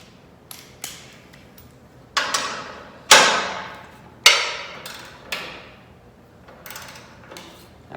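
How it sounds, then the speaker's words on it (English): A torque wrench tightens bolts to 120 foot-pounds, giving a handful of sharp, separate metallic clicks at irregular intervals, fairly close and loud against a quiet background, with no talking. "All right, so I got my torque wrench set on 120."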